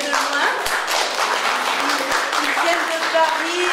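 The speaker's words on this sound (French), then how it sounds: "on les applaudit bien fort" An audience seated on steps at a presentation gives loud, dense applause, many hands clapping steadily and close by, while a voice talks over the clapping.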